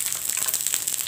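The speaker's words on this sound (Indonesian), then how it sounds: "Kita gongso sebentar dulu, kemudian baru kita haluskan" Shallots for sayur lodeh sauté in a hot pan with a bright, steady sizzle, brief and close, with no voices.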